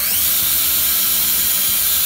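Drill bit boring through the center of an upturned metal rivet for a cigar box guitar, a loud, steady high-pitched whine that holds for about two seconds with no talk.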